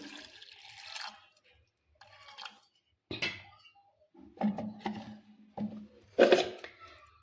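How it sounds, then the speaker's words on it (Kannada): Water is poured into a pressure cooker in a home kitchen while making a fresh green chickpea stir-fry, giving a few short splashy pours and drips separated by quiet gaps, close and moderately loud. "ಸ್ವಲ್ಪ ನೀರು ಹಾಕ್ತೀನಿ ನೋಡ್ರಿ"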